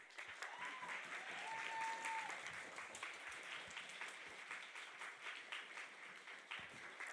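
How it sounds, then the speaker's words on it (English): Audience applause at a university game jam event, sustained even clapping throughout, fairly distant and steady, with faint voices and a brief tone underneath. "Big round of applause."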